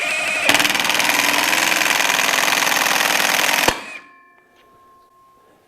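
Loud, rapid hammering rattle of a powerful impact wrench backing out a bolt on a Thunder Products ADAPT clutch cover, running for about three seconds, then stopping abruptly into near silence.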